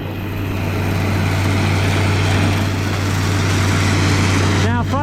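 Engine exhaust of a New Holland 802A Unisystem combine picking corn with an old New Holland head, a loud steady low drone heard up close throughout, with a brief warbling sound near the end.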